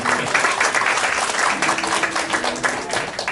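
Congregation applause at a Korean church Christmas event in Abu Dhabi, a short burst of many hands clapping at moderate volume, fairly close and steady.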